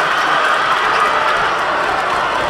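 A basketball crowd at a Division 4 state semifinal between Mashpee and Pope John roars and cheers loudly and steadily for the full stretch, a dense wall of massed voices and clapping with no single voice standing out.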